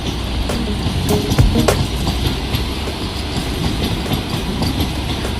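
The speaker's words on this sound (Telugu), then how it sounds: "ఇక్కడ చూసుకుంటే కనుక వందే భారత్ ట్రైన్ చూస్తున్నాం మనము" A Vande Bharat express train rushes past close by at Tenali railway station, heading from Vijayawada toward Chennai, wheels clattering rhythmically over the rails with a loud, steady roar and sharp clicks.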